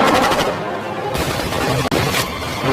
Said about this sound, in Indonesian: sebuah heli datang lalu tiba-tiba kemudian menghujani mereka dengan tembakan